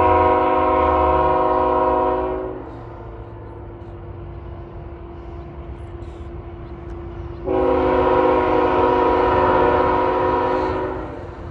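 Freight train M410, a very long train bound from Waycross, Georgia to Selkirk, passes Hannacroix with loud horn blasts at the start and again later, the rumble of rolling cars continuing between them.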